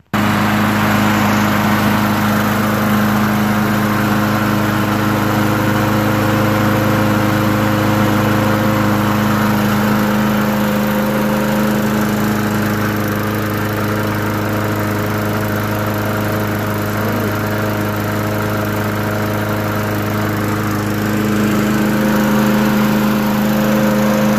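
Craftsman 6.25HP big-wheel mulcher's gas engine running steadily and loudly throughout, a constant droning hum with slight periodic wavering and no talk.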